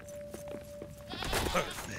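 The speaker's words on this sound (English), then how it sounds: "There's a goat." A goat bleats in the video game Lord of the Rings: Return to Moria, a short wavering cry that rises over the game's quiet background, brief and fairly close.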